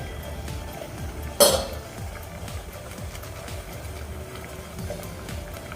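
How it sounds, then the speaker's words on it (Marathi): A metal lid comes off a pan of kothimbir vadi (coriander fritter dough) steaming on a gas stove, one sharp clank near the middle over a steady low kitchen hum. "पुन्हा आपण झाकण काढून बघूयात"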